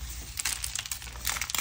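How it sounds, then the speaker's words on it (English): Plastic bag handled in a kitchen while salted meat is prepared, giving short bursts of crinkling and rustling against a quiet background. "And let's take our plastic bag here."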